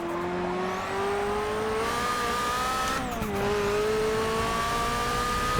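A Nissan R91CP race car at Silverstone in a racing game. Its engine screams loud and continuous close to the listener, with the pitch rising through the gears and briefly dipping at a shift; no voices.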